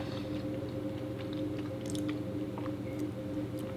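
Soft, close chewing of Doughp chocolate chip cookie dough, a dry, eggless dough, with faint moist squishes and small bites over a steady low background hum, no talking.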